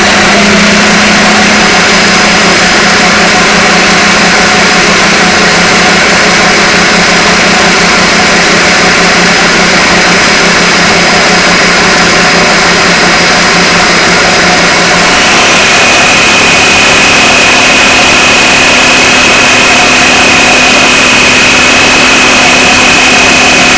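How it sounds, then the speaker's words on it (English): Food processor whisking mayonnaise, a loud constant motor whine that runs steadily throughout and shifts pitch slightly partway through, with no voices. "I've poured all into a food processor. So I'll just cover it now and then whisk away."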